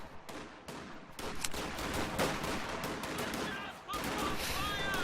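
An MG42 machine gun in a strategy video game fires in rapid bursts, mixed with other gunshots and battle noise, loud and close, while a voice talks over it.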